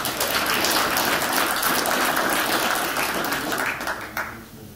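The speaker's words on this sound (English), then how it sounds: "So another round of applause." An audience at a coalition address breaks into sustained applause, a dense, loud patter of many hands clapping that holds steady, then thins and fades out near the end.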